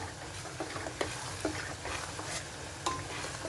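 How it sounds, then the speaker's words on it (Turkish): Red pepper paste simmers over low heat in a pot on a stovetop, giving a soft continuous bubbling with scattered small pops and ticks close by. "salçamı kısık ateşe koydum ocağa böyle kaynatacağım biraz"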